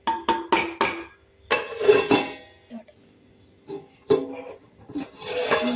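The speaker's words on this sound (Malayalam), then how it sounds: "വെള്ളം ഒഴിച്ച് ഇളക്കി അത് തിളച്ച് വരട്ടെ" A utensil stirs watered-down paste in a pot for a Kerala-style catfish curry, giving close metal clinks and scrapes in uneven bursts with quiet gaps between.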